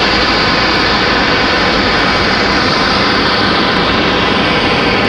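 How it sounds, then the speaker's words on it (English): An American Airlines Boeing 777 arriving from London roars loud and steady, a broad jet-engine rush with no pauses and no talking. "the 777 American from London."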